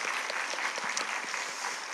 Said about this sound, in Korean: 우리 특세를 섬기신 분들 위해서 우리 격려의 박수 한번 하겠습니다